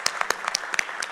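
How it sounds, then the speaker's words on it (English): Sparse, faint clapping from a small group at a city council meeting, a handful of separate claps spread unevenly across a brief moment. "so a round of applause for her"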